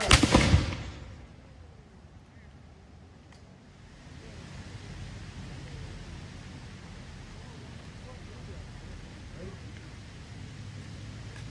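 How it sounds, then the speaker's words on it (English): A three-shot musket volley fired by a Sons of the American Revolution reenactment group at an outdoor Independence Day ceremony in Waterville, New York. One sharp, loud report opens the clip and rolls off into a long, low outdoor rumble. "members of the Orikinany Battle Chapter of the Sons of the American Revolution will present a 3-shot musket volley"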